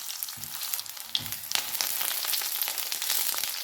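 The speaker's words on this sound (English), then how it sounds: "We will begin by frying the brinjal" Eggplant (brinjal) pieces fry in hot mustard oil for a Bengali-style mixed vegetable dish, giving a steady close sizzle with crackling pops and a few soft clanks as pieces are moved.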